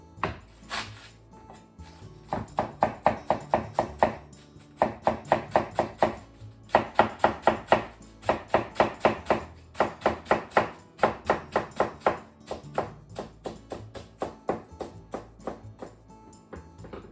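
Knife chopping a cored cabbage into thin strips on a cutting board for a cabbage and apple salad, rapid rhythmic bursts of crisp cuts in repeated runs with short pauses between, close and fairly quiet.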